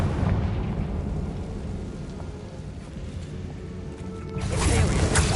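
A Confringo blasting spell goes off in the video game Hogwarts Legacy: a loud, rumbling burst erupts near the end after a steady low ambient rumble.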